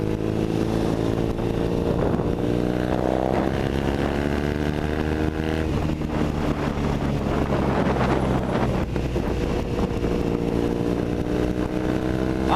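A Triumph Thruxton 900 cafe racer fitted with a British Customs slip-on exhaust drones steadily while riding, its engine note loud and continuous under heavy wind buffeting across the whole stretch.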